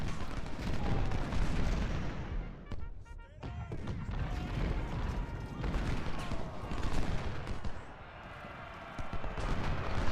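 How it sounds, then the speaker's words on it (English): Massed musket volleys crackle through a Gettysburg battle in Ultimate General: Civil War, dense overlapping gunfire rolling continuously with booming cannon-like bursts and a loud, busy battlefield din, with voices shouting underneath. "I just want you to fire a volley at the guys."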